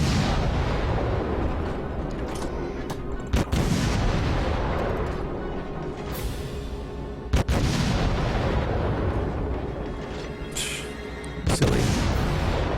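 Naval guns on a warship fire shells at a Cleveland cruiser in a naval combat video game, a continuous rumbling barrage broken by several sharp, loud booms, with no talking.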